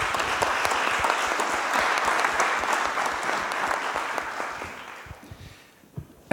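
Conference audience at a European organic farming congress giving a departing participant a round of applause, dense clapping from a full room that stays strong, then thins and fades to a few last claps at the end.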